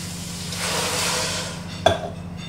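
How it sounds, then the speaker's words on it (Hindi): Water pours steadily into a large cooking pot of onions and garlic for Bombay biryani, a soft rushing wash that builds and fades, followed by a sharp metallic clank near the end. "इसमें हम डालेंगे 2 कप के बराबर पानी"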